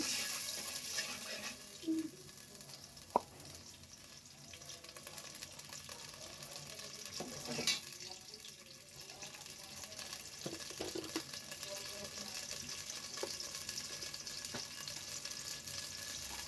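A blended paste of ginger, garlic and cumin frying in a pan, a soft ongoing sizzle with occasional clinks and stirring, plus some trickling water in the background, all fairly quiet.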